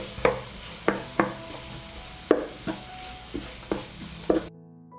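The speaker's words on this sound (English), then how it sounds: "I will fry the onion and garlic in the heated olive oil" Onion, garlic and mushrooms frying in heated olive oil, with a steady sizzle under about eight distinct stirring scrapes at an uneven pace before the sound cuts off abruptly.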